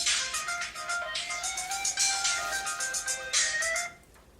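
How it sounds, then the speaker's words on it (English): A mobile phone ringtone rings in a real estate school office, a bright repeating melodic tone sounding loudly in several bursts before cutting off. "My phone's ringing."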